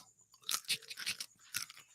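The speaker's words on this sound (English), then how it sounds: "I can hear every crinkling, crunching." Crisp crunching from something being chewed up close, several bursts of crackling bites in quick succession.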